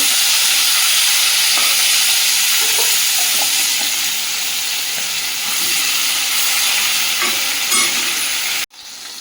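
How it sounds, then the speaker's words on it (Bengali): Fish frying in hot oil in a wok, a loud, steady crackling sizzle that runs unbroken for about nine seconds before cutting off sharply near the end, with no voices. "মাছগুলো ভেজে নেব।"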